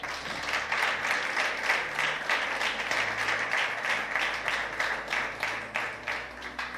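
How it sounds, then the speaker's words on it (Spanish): A church congregation applauds together, a sustained, dense roar of many clapping hands filling the room evenly with a faint rhythmic pulse. "Dale un aplauso a Jesús"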